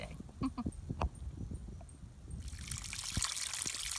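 Water trickles over rocks at a trail water source on the Appalachian Trail near Hiawassee, a soft, close, continuous dribble that swells into a fuller rush of flowing water near the end.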